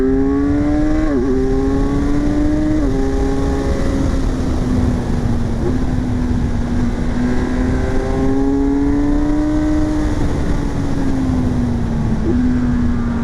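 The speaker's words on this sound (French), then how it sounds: "On va mettre un petit peu plus de gaz et on va voir ce que cette Z1100 a dans le ventre." A 2026 Kawasaki Z1100 motorcycle accelerating on a road, its engine note climbing through several gear changes with sharp dips between shifts, loud and close under steady wind rush.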